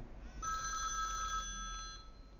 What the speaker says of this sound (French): Oh, il y a mon téléphone, excusez-moi.